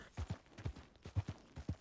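Horse hooves clip-clop in Red Dead Redemption 2, a steady walking rhythm of about ten distinct, close hoof strikes, fairly soft and heard alone.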